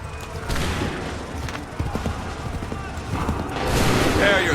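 Musket volley fire in the video game Assassin's Creed 3, booming gunfire bursts amid battle noise with horses clopping, while commanders shout orders over the din.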